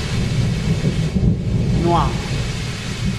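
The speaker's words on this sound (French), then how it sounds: "Maintenant, la pluie se transforme en orage" Thunderstorm with heavy rain, a dense steady roar of rain under low rumbling thunder, loud and close, with a single word spoken partway through.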